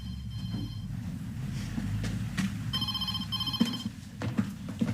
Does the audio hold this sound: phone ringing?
yes